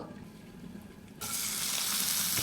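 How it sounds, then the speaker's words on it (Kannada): Onion, garlic and chopped green chilli hit hot oil in a small pan: a faint hush gives way to a sudden bright, loud sizzle that holds steady close by, with no talk. "ಬೆಳ್ಳುಳ್ಳಿ ಮತ್ತು ಸ್ವಲ್ಪ ಸಣ್ಣದಾಗಿ ಹಚ್ಚಿರೋ ಮೆಣಸಿನ್ಕಾಯಿ ಇದೆಲ್ಲ ಹುರ್ಕೊಳ್ತೀನಿ."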